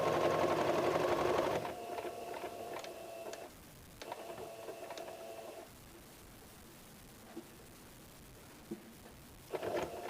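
Sewing machine stitching a cotton cloth cap for a small child, a fast whirring run that stops, then shorter bursts of stitching with quiet gaps and faint clicks between them.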